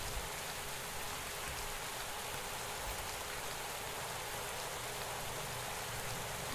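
Steady rain sound in a Pro Cycling Manager video game race on a short 90km Tour Colombia stage: a continuous, even hiss of falling rain, moderately loud and unbroken, with no voices.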